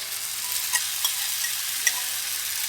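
A spoon stirs coarsely ground green tomato paste sizzling in hot oil in a pan, a steady bright crackle with a few light scraping clicks, no voices.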